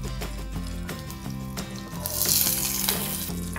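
Onion and chana dal frying in oil, with a close, continuous sizzle and a few soft knocks, under a steady tonal background hum.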